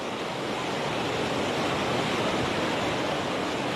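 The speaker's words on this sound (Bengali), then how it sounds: "পাহাড়ি ঢলের পানির দাপটে আগ্রাসী হয় নদী। দুকুল ছাপিয়ে খরস্রোত ছোটে দুরন্ত গতিতে।" Powerful, unbroken roar of the Gomti river in flood, swollen by hill runoff and overtopping its banks, a dense wash of rushing water, steady and loud throughout.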